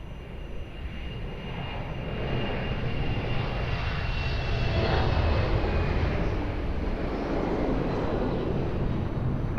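Loud, steady roar of a jet airliner landing on runway 02 at Lisbon Airport, a broad sustained engine rumble that swells slightly toward the middle and holds without any voices.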